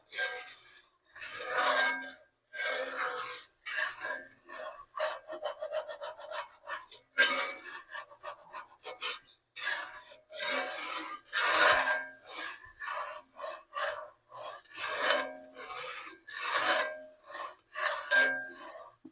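Meat deposits scraped off the bottom of a cast iron skillet, a series of close, rasping strokes in bursts, some quick and rapid, others longer, with brief pauses and an occasional metallic clink.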